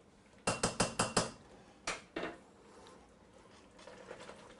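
A whisk clinks against a bowl while pollen substitute is gently mixed into bee candy mixture: a quick run of five light metallic taps, then two more, fairly quiet with a soft scraping tail.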